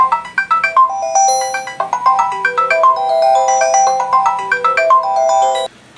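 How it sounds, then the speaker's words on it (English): A bright electronic ringtone plays a bouncy synthesized melody with a repeating low pulse, loud and clear, stopping abruptly. "I will dial it from the house and you will see what the ring sounds like"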